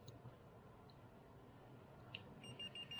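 A tire pressure monitoring sensor on a car emits a short series of faint, evenly spaced high beeps near the end, following near silence.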